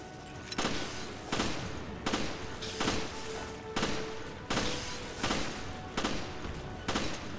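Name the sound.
gunshots in video game Resident Evil Revelations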